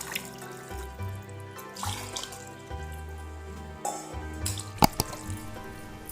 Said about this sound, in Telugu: ఈ గ్లాస్తో మూడు గ్లాసుల వాటర్ ఇచ్చుకుంటున్నాను